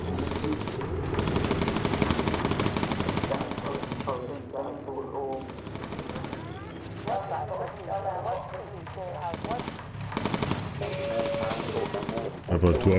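Bomber aircraft machine guns in the Bomber Crew video game, rapid dense bursts of gunfire in several stretches with brief gaps, loud and close, over game sounds and a voice talking.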